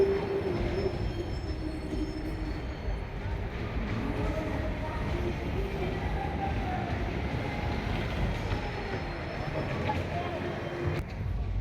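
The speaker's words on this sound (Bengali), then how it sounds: "এটা হচ্ছে ট্রেন।" A small amusement park ride train runs continuously at Magic Paradise in Cumilla, giving a steady rolling rumble with wheel noise and a faint high squeal, and crowd sounds around it.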